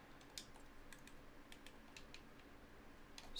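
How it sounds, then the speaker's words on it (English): Typing on a loud computer keyboard, with scattered sharp key clacks in short irregular runs, quiet and close against a faint steady background hum, no voices. "My keyboard's so loud."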